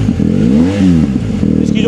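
BMW R 1250 GSA adventure motorcycle fitted with an Akrapovic exhaust, revving with a loud, close engine note that rises and falls across two short throttle blips, with someone talking over it.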